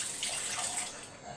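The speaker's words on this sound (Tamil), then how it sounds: "கொஞ்சம் தண்ணி ஊற்றி" Water pours into a pot of boiling fish curry in a steady splashing stream that fades a little near the end.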